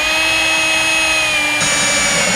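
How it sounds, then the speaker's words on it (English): Power drill fitted with a cobalt bit bores into a steel Nissan Frontier truck bed, a steady loud whirring grind that shifts pitch slightly partway through, with no voices. "they do drill steel a lot better in my opinion."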